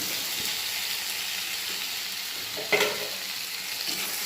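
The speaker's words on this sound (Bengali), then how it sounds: "এইবার ভেজে রাখা সবজিটা আমি ওর মধ্যে দিয়ে দেব" Fried vegetables are tipped into a pan of spice paste cooking in oil, with a constant soft sizzle and a sudden clatter and stir as they land, followed by light scraping.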